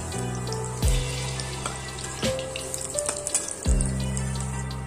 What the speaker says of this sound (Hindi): हमने चेक कर लिया है तेल गर्म हो चुका है तो हम इसे इस तरह से दबाते हुए तेल में डाल देंगे